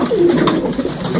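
A male pigeon gives a single loud, close coo, a short throaty warble that fills the moment without other sounds.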